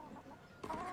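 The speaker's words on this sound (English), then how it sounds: "there's chickens everywhere" A brief, faint cluck from a chicken in a video game, a short nasal call at the end of a quiet second with no talking.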